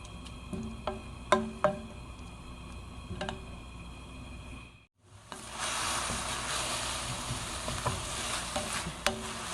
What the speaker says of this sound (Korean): 이렇게 저어주면서 볶아주세요.